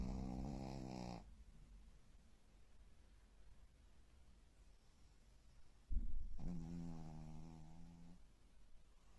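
Pet dogs, both female, snoring close by: a long rasping snore at the start and another drawn-out one near the end, with quiet breathing noise between and no talk.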